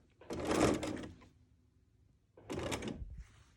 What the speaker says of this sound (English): I'm going to back stitch. I'm going to stitch along these lines